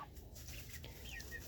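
Chickens, including a bantam, cluck softly close by in a greenhouse coop, with a few short high chirps over a steady low rumble of background noise.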